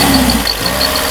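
A car engine on test after a fuel distributor repair, fed from an external fuel tank and with a stuck throttle butterfly, runs steadily at about 2000 rpm, a loud, even hum heard close up with no talk.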